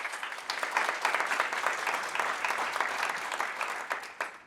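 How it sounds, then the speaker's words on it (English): An audience at a humanitarian forum on forced displacement and refugees breaks into steady, sustained applause that stays fairly even, with no talking. "Another round of applause."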